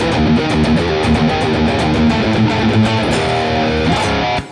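Heavy distorted metal guitar riff in a modern, aggressive Phrygian style, fast and dense with pounding drums, loud and continuous throughout with no talking.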